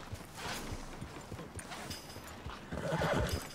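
A horse whinnies while being ridden in Red Dead Redemption 2, its neigh rising over the rhythmic clip-clop of hooves, fairly close and steady.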